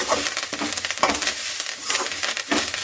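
Herb mixture of vatha narayana (vathamadakki) leaves stirred in a pan over a low flame, giving a steady soft sizzle with repeated scraping strokes of the spoon close by, no talking.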